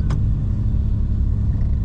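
A Ford Everest rolls up nearby with a steady low engine rumble and road noise, close and fairly loud, with a brief bright click near the start.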